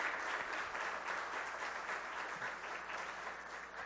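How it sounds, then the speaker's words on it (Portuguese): Applause during a solemn session of a council meeting, a fairly faint, even patter of many hands clapping together from a gathered audience, steady without pauses throughout. "pedir uma salva de palmas por nós essa vitória"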